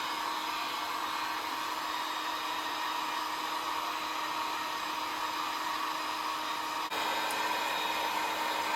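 A hair dryer blows steadily on a vinyl seat repair to speed-dry it, its even close-up whir running throughout and shifting slightly in tone near the end as the airflow or angle changes.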